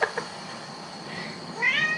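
An indoor house cat gives a short chirp and then a longer meow near the end, heard close by in a quiet room.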